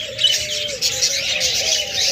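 Budgerigars, cockatiels and lovebirds chirp together in close, dense chatter, a continuous overlapping twitter of small caged birds.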